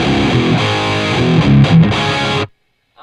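Loud distorted electric guitar played through an EVH 5150 III amp profile on a Kemper, chugging riffs and sustained chords that cut off abruptly near the end, leaving silence.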